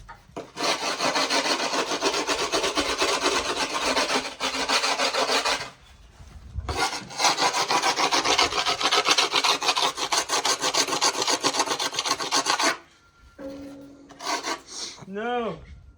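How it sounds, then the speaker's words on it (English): Wood being sanded by hand in long, steady abrasive strokes, loud and close, with two extended bursts separated by a short pause and a few quieter scrapes at the end. "I'm gonna sand this down."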